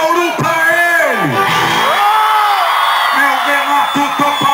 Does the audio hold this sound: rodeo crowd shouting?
yes